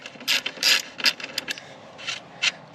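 A ratchet wrench backs out bolts with loud, close bursts of rapid clicking in short uneven runs separated by brief pauses, with no talking.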